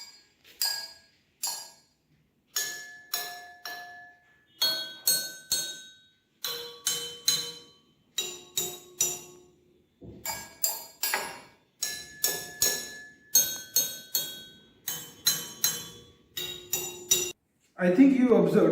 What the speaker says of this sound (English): let us fill the 4th glass completely with the water. Now let us start vibrating this glass.